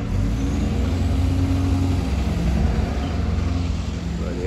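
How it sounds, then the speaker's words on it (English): A big bus driving past on a town street in Yeovil, its heavy engine rumbling loud and close, steady for several seconds before easing slightly as it moves off. "Bloody hell, big bus."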